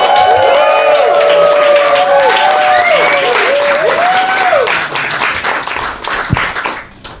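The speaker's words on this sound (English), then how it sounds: "Let's have a nice round of applause for the very funny Mike Degen." A comedy club audience applauds a comedian, loud sustained clapping with some cheering, while a voice speaks in a rising melodic tone over it before the applause fades.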